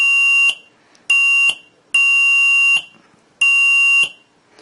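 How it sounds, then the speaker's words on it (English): Four loud, shrill piezo buzzer bursts from a simple intruder alarm circuit, each about half a second to a second long, sounding as a button is released, separated by short silences, close and piercing. "every time the button is released, the piezo buzzer sounds off."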